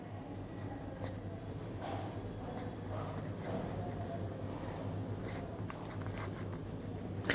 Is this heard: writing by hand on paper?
yes